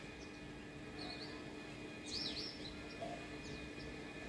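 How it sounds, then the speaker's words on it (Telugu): Small black birds chirp outdoors in the morning, heard as faint, scattered high tweets over a quiet background hiss, with a brighter burst of calls midway and no talk. "ఈరోజు చాలా పక్షులు వచ్చినాయి"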